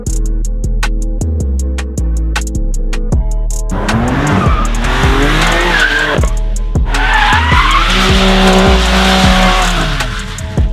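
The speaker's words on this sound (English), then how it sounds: "Now we are driving the ALPINA 2020 BMW M2 Competition." A 2020 ALPINA-edition BMW M2 Competition accelerates and shifts through gears, its engine note rising and falling loudly, then tires squeal and skid repeatedly as it is pushed hard, with no talking.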